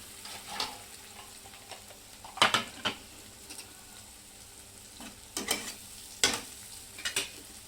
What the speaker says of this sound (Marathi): तर ह्याला पण परतून घेते